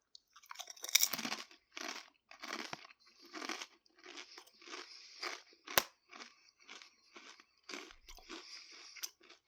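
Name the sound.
crunching Doritos Golden Sriracha tortilla chips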